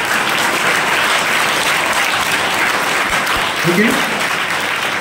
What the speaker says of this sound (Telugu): ఫస్ట్ మీకు మీరు ఒకసారి చప్పట్లు కొట్టండి